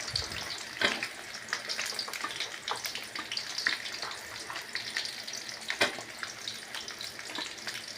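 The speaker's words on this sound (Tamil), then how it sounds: "அடுத்து சின்ன வெங்காயம் போடணும்." Small onions hit hot oil in a pan already frying green chilies for chicken pallipalayam, giving a soft, continuous sizzle with scattered crackles and pops throughout.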